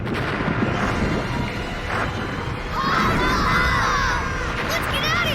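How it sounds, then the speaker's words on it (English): Deep rumbling booms from an erupting cartoon volcano rolling continuously under a dense wash of noise, loud and close, with bursts of chaotic higher crackle near the end. "Hello, volcano."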